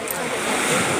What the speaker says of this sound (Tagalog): naririnig ko yung tunog ng alon dun sa parang nakaka-relax siya sa tenga